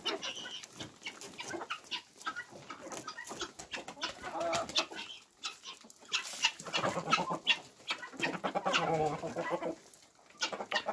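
Flock of about twenty-five domestic hens, many feather-footed, with several roosters, clucking and chattering in an irregular, overlapping stream close to the microphone, steady throughout with no talking.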